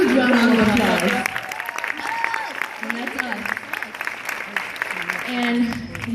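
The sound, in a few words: audience applause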